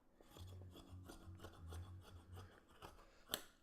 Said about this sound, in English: that was perfect pair of scissors to use for this